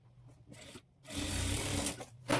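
Sewing machine running in bursts while joining blouse sleeve pieces, a short whir, a pause, then a longer steady loud run and a brief final burst, close and with no talk.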